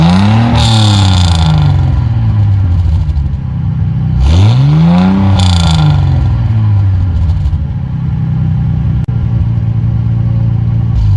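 A warmed-up 1983 Toyota Supra engine running close by, with a steady mid-pitched idle broken by two quick revs that rise and fall, plus light clatter, heard alone without talk.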